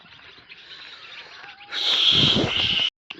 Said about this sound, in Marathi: थांबा, तुम्हाला ह्यांचा पाखरांचा आवाज ऐकवतो